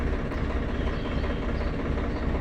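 A New Holland 3230 Power Plus tractor engine runs steadily nearby, a loud, dense low diesel rumble with even chugging and no pauses.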